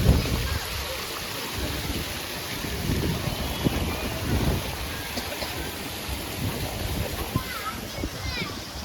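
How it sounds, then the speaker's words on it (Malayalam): Light drizzle and a cold, gusty wind at Kanyakumari, a steady broadband hiss with wind buffeting the microphone, continuous and fairly close, with voices faintly underneath. "നല്ല ക്ലൈമറ്റ്, ചെറിയൊരു ചാറ്റ മഴ, നല്ല കാറ്റ്, ഭയങ്കര തണുത്ത കാറ്റാണ്"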